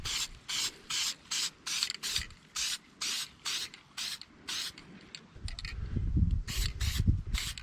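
Aerosol spray paint going on as a second coat over a rusty step bracket on a Jayco motorhome, heard as a run of nearly a dozen short, even hissing bursts, close and steady, followed by a duller rustling handling noise.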